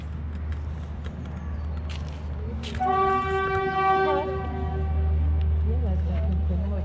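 The narrow-gauge forest train at Szilvásvárad, Hungary, approaches under a steady low rumble, then sounds a loud, sustained horn for a couple of seconds as it nears. Voices can be heard faintly nearby.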